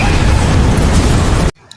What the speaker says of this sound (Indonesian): ia pun memutuskan untuk meledakkan helikopter itu